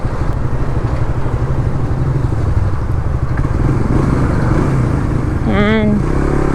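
A manual-clutch engine idles and runs steadily on half clutch while creeping through traffic over a road hump, a continuous close rumble throughout, with a brief rising horn-like tone near the end.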